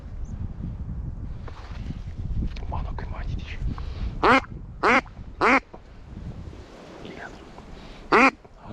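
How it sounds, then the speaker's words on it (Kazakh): Ducks quack during an autumn duck hunt outdoors, with several loud, sharp quacks in a loose sequence over wind and rustling leaves. "Үйректер екен."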